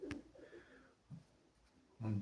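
A Perm high-flying pigeon gives a few soft, low coos in a quiet setting, separated by short pauses, with a fuller, louder coo at the end.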